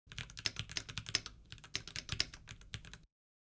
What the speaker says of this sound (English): So here's the keyboard test, again on the shotgun mic